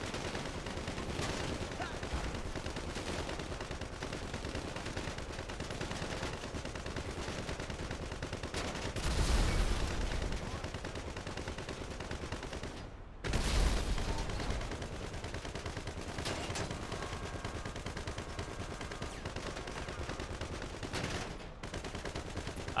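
Gunfire from a GTA Online street fight pounds an armored tank, a dense, continuous rattle of rapid shots with heavier bursts near the middle, loud and steady throughout with no speech.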